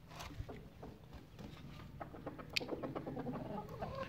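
Chickens being fed grain cluck softly and intermittently nearby, with faint rustling and scattered pecking in the background.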